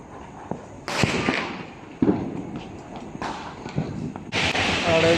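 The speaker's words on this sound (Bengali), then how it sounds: "প্রচুর বোম ফাটছে ভাই, প্রচুর বোম ফাটছে এখানে।" Diwali firecrackers burst repeatedly across an outdoor night scene heard from a rooftop, with several loud cracks and crackling fireworks near and far; someone talks intermittently between the bangs.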